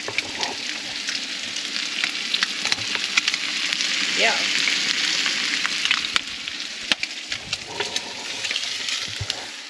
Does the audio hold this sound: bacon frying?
yes